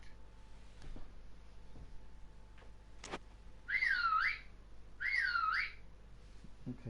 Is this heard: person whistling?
yes